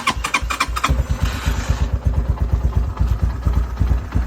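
A Vxr 300 Enduro motorcycle's engine catches after a brief crank and settles into a loud, close, rapidly thumping idle.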